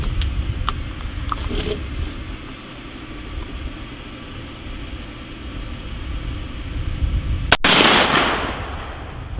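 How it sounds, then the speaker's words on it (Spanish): A single sharp, loud gunshot from an R15 rifle fired at a bulletproof panel cracks out over steady outdoor background noise, followed by a brief rush of broadband noise as it fades. "Aquí este es el disparo con el R15."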